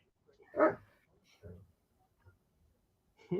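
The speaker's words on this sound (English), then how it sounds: "She's barking at me." A dog indoors, standing on a chair, gives a few faint, scattered barks and yips with pauses between them.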